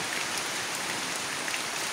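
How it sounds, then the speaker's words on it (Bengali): Steady rain falls on plants and leaves, a dense, even hiss of drops with no break, close and fairly loud, with no voices. "এখন বৃষ্টি হইলো"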